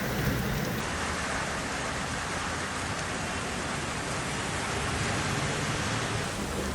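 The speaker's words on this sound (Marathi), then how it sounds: "विजेच्या कडकडाटासह संपूर्ण पिंपरी चिंचवड शहरात आणि आजूबाजूच्या ग्रामीण परिसरामध्ये जोरदार अवकाळी पावसाला सुरुवात झालेली आहे" Heavy unseasonal rain pours steadily over Pimpri Chinchwad city during a thunderstorm, a loud, continuous broadband hiss with no distinct thunder crack standing out.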